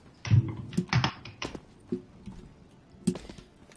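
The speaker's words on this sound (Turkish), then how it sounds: "Şu klavyeye çok sert basma. Videoda çok kötü ses çıkıyor tamam mı kankacığım?" Someone types hard on a computer keyboard during a CS:GO match, giving loud, close, irregular clusters of clacking keystrokes with quieter taps between them.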